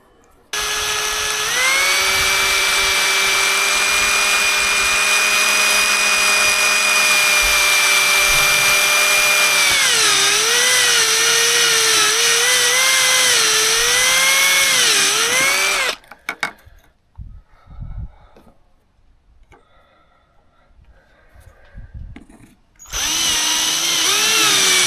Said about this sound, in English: you can use a Christmas tree bit or a step drill and just make those holes